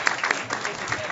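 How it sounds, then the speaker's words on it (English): Audience at a commission meeting breaking into a round of applause, a dense, steady wash of clapping throughout, fairly close and even in loudness. "I'm going to give my parents a round of applause"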